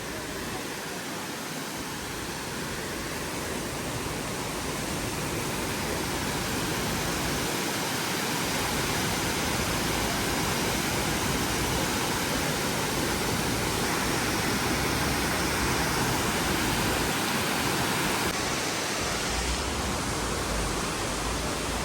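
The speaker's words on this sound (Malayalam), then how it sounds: "ചർപ്പ വാട്ടർഫാൾസ് ആണ്." Charpa waterfall in the Vazhachal forest near Athirapally pours with a constant dense rushing roar, a steady broadband wash of falling water that fills the whole scene.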